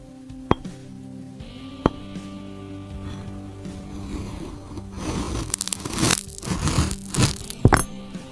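AI-generated ASMR of a knife slicing through glass fruits: a few isolated crisp clicks early on, then dense crunchy, crackling cuts and glassy tinkles building toward the end, close and detailed over a faint tonal hum.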